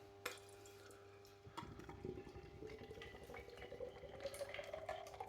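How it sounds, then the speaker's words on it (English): Beer, a clear IPA, pours steadily into a glass, a soft gurgle that rises in pitch as the glass fills, quiet and close. "We'll pour it to about there."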